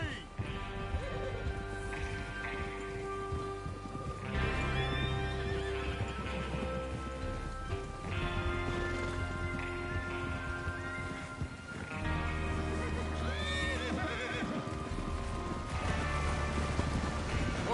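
Horses whinny and neigh repeatedly in Red Dead Redemption 2 as they gather for a train robbery, with clip-clop hoofbeats and a steady bed of music and game ambience throughout.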